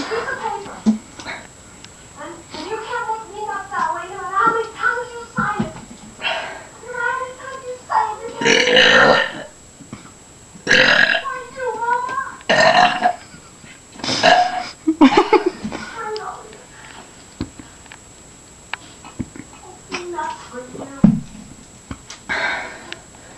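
A series of loud, drawn-out burps, several in a row with short pauses between, with brief snippets of voices and small noises in between.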